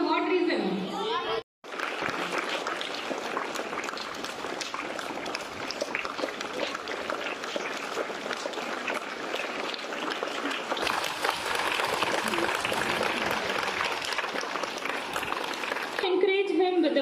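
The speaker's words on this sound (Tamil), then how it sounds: "சாதனை படைத்த மாணவனுக்கு பள்ளியில் படிக்கும் மாணவர்கள் கைத்தட்டி வாழ்த்துக்களை தெரிவித்தனர்." Schoolchildren clap for a classmate who set a record, a dense and continuous burst of applause with chatter and laughter mixed in. It runs for many seconds, breaks briefly near the start and then carries on at full strength.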